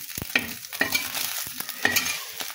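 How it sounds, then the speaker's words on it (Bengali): Potatoes frying in oil beside fish on a gas stove, a close sizzle punctuated by quick rhythmic stirring scrapes and taps of a spatula. "দিয়ে আমি এই পাশে আলু ভাজতে দেব"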